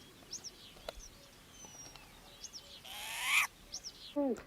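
A short-eared owl gives short, hoarse calls repeated at intervals against a quiet outdoor background, with a burst of rustling noise and a couple of higher squeaky notes.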